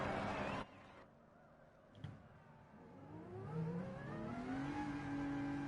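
A race car engine in Gran Turismo Sport idles, then climbs in a smooth rising rev as the car heads out on track, growing louder toward the end with no talk.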